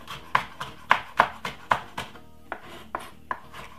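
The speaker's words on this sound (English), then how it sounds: "Cut up the pepper, put it straight inside of the oil." A knife chops red pepper on a cutting board, about a dozen crisp, close knocks in an uneven rhythm with short pauses between strokes.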